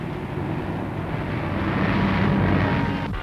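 A WW2-era fighter plane flies aerobatics for a pre-war newsreel, looping, half-rolling off the top of a loop and spinning. Its engine drones as a steady, fairly loud roar that swells slightly, with no talking.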